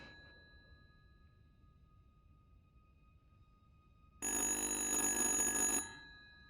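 Telephone in Little Hope: after a quiet stretch of faint ambient hum, one loud electric bell ring bursts out for about a second and a half, then decays with a short tail.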